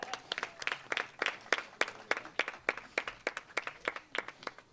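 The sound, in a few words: audience clapping for couple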